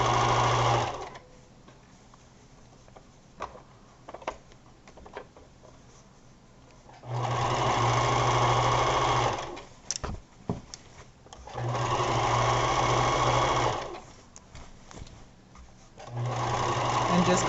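Sewing machine stitching a set-in sleeve, running in three or four distinct loud bursts of rapid stitching with quiet gaps between, close up, with someone talking during the pauses.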